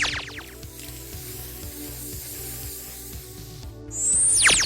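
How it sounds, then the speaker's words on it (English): Krylon Metallic Brilliant Gold spray paint hisses steadily from an aerosol can over a black Plasti-Dip coated prop lens, with a faint mechanical rattle underneath and a louder burst of spray near the end. "let's go ahead and spray it gold"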